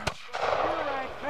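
A sharp musket shot from a historical firing line at Fort Ticonderoga cracks out at the start, followed by a second report, then someone talking nearby over the fading echo.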